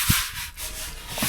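A sticky tack cloth rubbed over a painted part of a 1993 Pennine Aztec trailer tent makes a brief, close, hissing wipe with a soft bump at the start and no talk.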